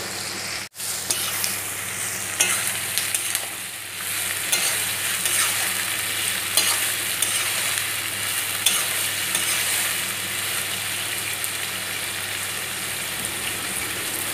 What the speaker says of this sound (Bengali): পেঁয়াজটা কিছুক্ষণ নেড়ে চেড়ে নিতে হবে।